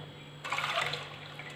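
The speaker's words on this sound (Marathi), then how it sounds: "आता हिचं पाणी पुन्हा आपण काढून घेऊया" Water draining out of soaked jowar grain for papad, a short close splashing pour that starts abruptly and trickles off over about a second.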